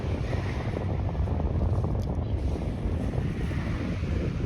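Strong wind buffets the microphone with a steady, loud rumble and roar throughout, with no voices heard.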